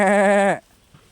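A voice imitates a goat's bleat, one wavering, nasal cry lasting about half a second before falling silent.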